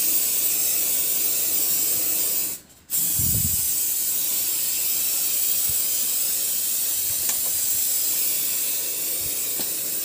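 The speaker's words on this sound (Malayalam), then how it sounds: "എന്നിട്ട് നമുക്ക് അതൊക്കെ ഈ റെഡ് പെയിൻ്റ് അപ്ലൈ ചെയ്യാം" Red paint sprays onto a brake caliper in a steady, close hiss that runs nearly the whole time, with one brief gap and a few small clicks.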